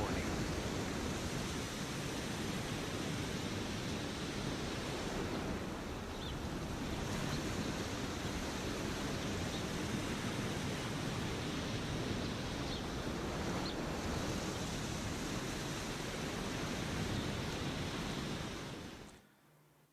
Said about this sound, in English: we had also the sound of the sea, the seashore